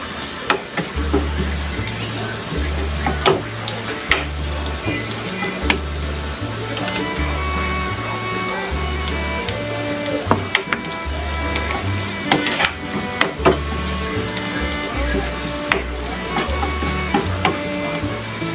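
Garlic sizzles and fries steadily in a hot pan, then tomatoes go in, with utensil scrapes, stirring clatter and occasional sharp clicks over a constant low hum.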